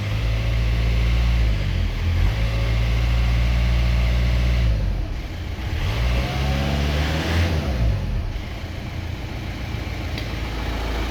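VW Jetta engine idling, a steady close mechanical hum with low harmonic drone, briefly dipping and rising around the middle.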